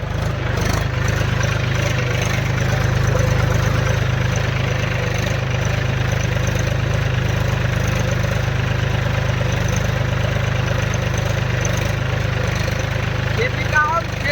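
A farm tractor idles steadily during the wheat harvest, a continuous low, even engine drone that holds unchanged from start to finish, with faint voices in the background.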